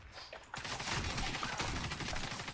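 Gunfire in the video game Warface, from a Mossberg 500C shotgun, a quiet lead-in followed by a sudden burst of dense, sustained shooting.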